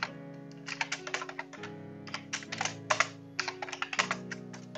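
Close, steady keystrokes on a computer keyboard come in quick uneven bursts with short pauses, clear and alone over a faint sustained background tone.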